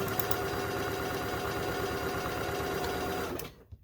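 A sewing machine stitching quilt fabric blocks runs in a fast, even mechanical chatter at close range, then stops abruptly near the end.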